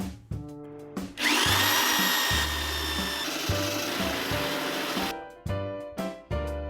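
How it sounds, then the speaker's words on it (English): Power drill boring a one-inch hole during a computer build, a loud whining run of a few seconds with a rising pitch, set between short clunks and handling knocks. "in just a minute, I'm going to drill another hole"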